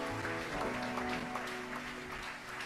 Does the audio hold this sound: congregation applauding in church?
yes